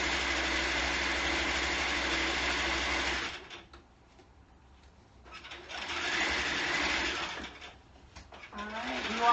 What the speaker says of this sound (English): you all are sticking with me as I sew through this coat